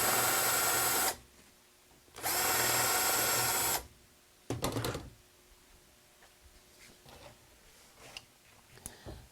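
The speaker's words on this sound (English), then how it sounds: "put it in my hand drill so that the head of the drill bit will fit flush" Hand drill countersinking a hole in aluminum ski skin for a chair rung, with two loud bursts of high whirring of about a second each, followed by a brief clatter and quieter clicks and handling noises.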